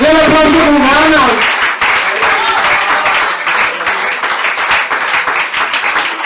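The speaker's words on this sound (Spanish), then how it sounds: "Den aplauso con ganas." Sunday church congregation clapping with vigor, a steady crackle of many hands after a voice fades at the start, continuing loudly to the end.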